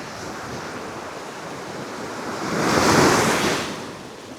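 Ocean surf rolls onto a beach near the Lake Worth fishing pier, a steady wash that swells into one broad breaking wave, with wind buffeting the microphone and no voices.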